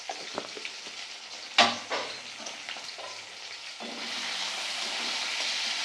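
Prawns seasoned with salt and turmeric fry in hot oil until red, a sharp burst of spitting sizzle after a few light clinks, easing into a steady crackling fry that grows fuller toward the end.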